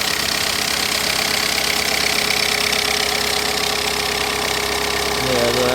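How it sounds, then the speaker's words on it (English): A 2007 Kia Pride hatchback diesel engine idling smoothly with the hood open, a dense steady clatter and hum held close and constant, with a brief shift in tone near the end. "Here's the engine room. The sound is smooth, no problems."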